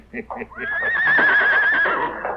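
In a radio drama a horse neighs: a few short snorts come first, then a loud, shrill whinny that quavers for over a second before trailing off.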